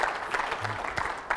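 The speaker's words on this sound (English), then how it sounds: "Give her a big round of applause." Audience applause at a live magic comedy show, steady broadband clapping across the whole stretch, moderately loud and fairly close, with a brief low tonal sound in the middle.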